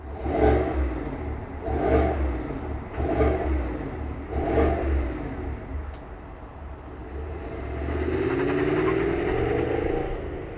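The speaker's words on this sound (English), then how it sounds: "Let's fire it up and hear what it sounds like." A 2025 Chevrolet Suburban Premier with a 5.3L V8 fires up, then gets four quick, evenly spaced throttle blips before settling into a longer, steady rev at mid volume, with no talk.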